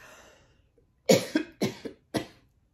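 A person coughs several times in a quick, rough burst, close and loud, with no talking.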